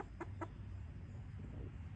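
Two quick clucks from a chicken, faint and nearby, over a low steady hum of background noise.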